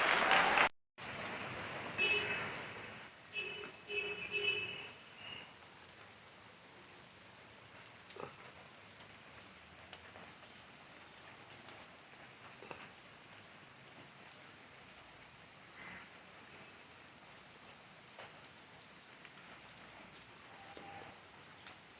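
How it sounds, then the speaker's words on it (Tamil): Heavy rain pours steadily, a dense continuous hiss with scattered louder drops, after a brief electronic tone at the start; no voices. "பயங்கரமாக மழை பெய்யுது"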